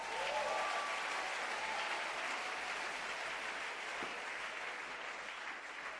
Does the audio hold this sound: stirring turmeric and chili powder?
no